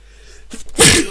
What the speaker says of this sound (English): I have a nice sneeze before I go